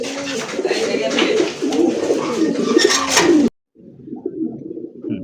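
Fancy pigeons coo in repeated throaty rolls, loud and close, continuing steadily before an abrupt cut, then resuming more faintly.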